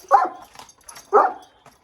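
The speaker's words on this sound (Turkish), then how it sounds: "Bu çok iştahlı. Çok aşırı derecede yemek yiyen bir köpek arkadaşlar." A dog gives two sharp, close barks about a second apart, with quiet pauses between them.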